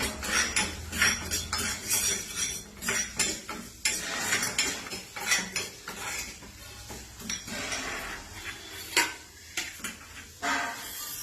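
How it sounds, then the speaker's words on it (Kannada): Urad dal roasting in a pan with a drop or two of oil, heard as faint sizzling under repeated clinks and scrapes of a spoon stirring against the metal, close and irregular. "ಮೊದಲು ಉದ್ದಿನಬೇಳೆ ಹುರ್ಕೋತೀನಿ."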